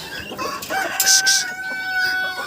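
A young Cochin rooster crows and clucks close by, a short strained cock-a-doodle-doo with thin tonal notes followed by softer clucks, alone without talk.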